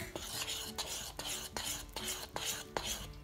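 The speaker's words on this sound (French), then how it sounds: "Et on va faire cuire tout ça en remuant" Homemade play dough mixture being stirred as it cooks in a pan over fairly high heat, with a utensil scraping and clinking against the pan in repeated strokes roughly every half second, close and moderately quiet.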